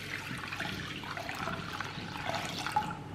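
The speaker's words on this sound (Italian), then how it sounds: "dobbiamo versare all'interno dell'acqua bollente" Very hot boiling water is poured into a container to soak a makeup beauty sponge, a soft steady trickling pour with no voices.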